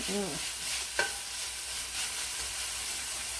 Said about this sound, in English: Stir those up a bit.